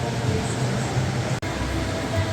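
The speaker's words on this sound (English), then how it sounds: "the train that I see going by every now and then, the big train" A steady low rumble of a large train rolling past at the Gaylord Texan resort in Texas, continuous and fairly close, with a constant mechanical drone throughout.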